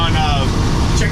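An RV van cruising at highway speed, around 65 to 70 mph, with a loud constant low road and engine rumble filling the cabin while a person talks over it.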